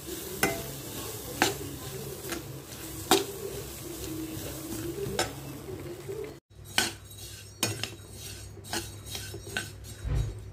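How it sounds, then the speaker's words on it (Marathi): Moong dal dry-roasting in a pot over low heat, stirred with a spoon: steady faint sizzle with regular metallic scrapes and clinks against the pot, no talking. "ही डाळ मंद गॅसवर भाजून घ्यायची।"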